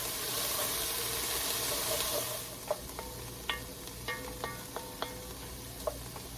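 Vegetables sweat in a pan for goulash with a steady, soft sizzle; a few light stirring clicks and scrapes sound close by partway through, and no one speaks.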